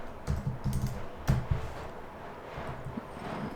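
Soft clicks of a computer keyboard come in a few quick clusters as code is typed, fairly quiet and close, thinning out toward the end.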